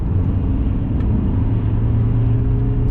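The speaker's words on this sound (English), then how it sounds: "You will hear the engine of the car." A car engine hums steadily from inside the car alongside a dense low road rumble and tyre noise, continuous and fairly loud, recorded on a GoPro Hero 8 in traffic.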